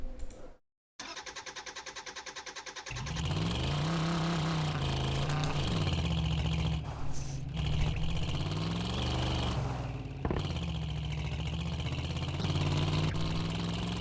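A car engine in the driving game Drive Beyond Horizons starts after a brief silence, then runs with a steady low hum that rises and falls as it revs, continuing loud to the end.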